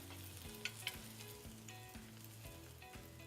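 Diced white onion sizzles in olive oil in a pan, a steady crackling fry over a low hum with a couple of sharper pops, quiet and close with no talking.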